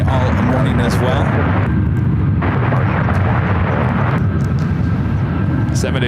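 A Boeing 787-8 Dreamliner airliner at San Francisco airport, a loud steady jet roar filling the whole stretch without letup, with people talking faintly underneath.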